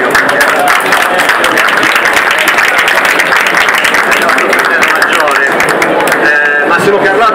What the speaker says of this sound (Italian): un applauso a Valerio